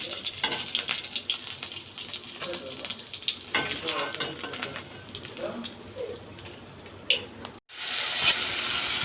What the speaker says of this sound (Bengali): ওই তেলের ভিতরে আমি টমেটোগুলো দিয়ে দিয়েছি, কাঁচামরিচ দিয়ে দিয়েছি